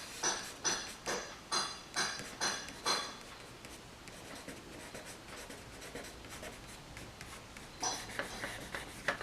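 A charcoal pencil sketches chicken feathers on paper, giving a run of quick rhythmic scratching strokes, then a quieter stretch of lighter rubbing and another burst of strokes near the end; close and fairly soft, with no talking.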